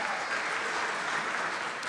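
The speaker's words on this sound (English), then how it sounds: "How about a big round of applause to the state-ranked Kimberly boys volleyball team?" Brief, steady clapping from a studio audience greeting a state-ranked boys volleyball team, an even wash of applause with no pause.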